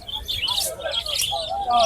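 Sharp, squeaky chirps and whistling calls from a native Bangladeshi parrot at Hemayetpur bird market, close and fairly loud, coming in quick irregular bursts with some murmuring in the background.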